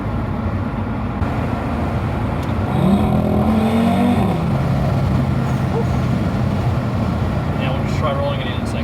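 A car engine drones steadily as it accelerates in second gear during a speed test, with the pitch climbing near the middle, heard from inside the cabin with a voice talking over it.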